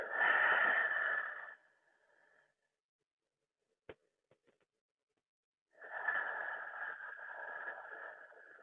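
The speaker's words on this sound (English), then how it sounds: "Full inhales and full exhales." Slow, deep yoga breaths: a long, full breath of air, a quiet pause with a few faint clicks, then another drawn-out breath, close and soft with no talking.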